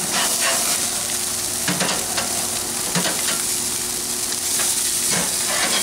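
Smoked beer cheese brat burgers searing in a hot pan, a loud, steady sizzle and crackle of fat close up with occasional sharper spits and pops, no voices.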